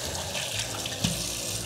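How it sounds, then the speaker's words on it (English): Octopus being rinsed under a running kitchen tap, a steady close rush of water splashing into a sink for the whole stretch, with one brief louder splash partway through. "Next step, I'm gonna rinse these quickly."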